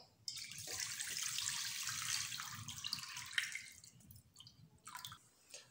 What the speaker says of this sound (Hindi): हुण दुध पा देंगे।